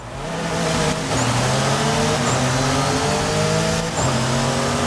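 BMW M3 G80 in Forza Horizon 5 doing a launch-control start and hard acceleration: a loud, close engine roar climbs through the revs, briefly dipping at each of two quick gear shifts, with no speech over it.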